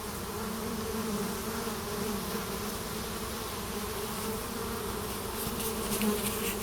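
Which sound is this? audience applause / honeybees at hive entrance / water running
honeybees at hive entrance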